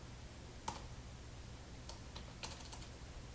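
Sparse typing on a computer keyboard while naming a character in a game: a few light, quick key clicks spread across a quiet background hum, close and faint.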